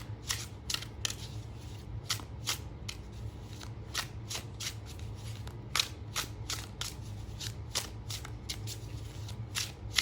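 A deck of slippery new playing cards being shuffled up close, a quick run of sharp riffling bursts and flicks repeating in an irregular rhythm with no voices over them.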